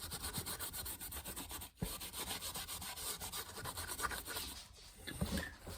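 A wooden cigar box guitar body is rubbed steadily with a cloth as finish is worked into the wood, a continuous close scrubbing texture with one brief pause midway and no talk.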